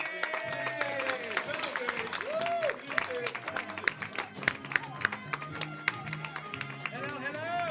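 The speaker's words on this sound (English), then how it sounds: "Yeah, clap for them." Audience claps and cheers for a volunteer called up on stage at a live event, with scattered hand claps of moderate loudness heard under a host's talking.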